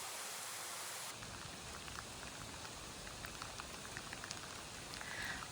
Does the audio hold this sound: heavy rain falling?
yes